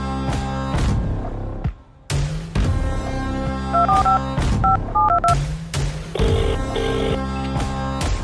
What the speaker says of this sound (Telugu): ప్రిన్సిపల్ ఫోన్ చేస్తాను ఇప్పుడు